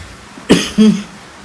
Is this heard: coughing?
yes